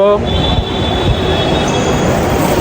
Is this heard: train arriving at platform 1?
yes